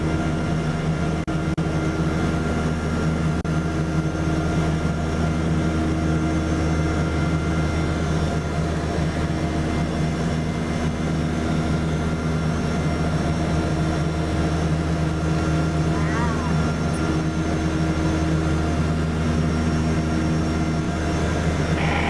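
A Cessna light aircraft on landing approach drones with a steady, continuous engine hum heard from inside the cabin, even and unbroken throughout with no voices.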